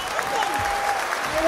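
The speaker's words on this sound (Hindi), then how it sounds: "दो लाख तालियां हो जाए इनके लिए" Audience applause at a skating award ceremony for marathon winners, a brief steady burst of clapping from a crowd with a voice speaking over it.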